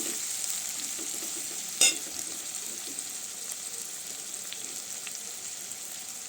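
Food frying in a pan until golden, giving a steady soft sizzle with a single sharp clink partway through.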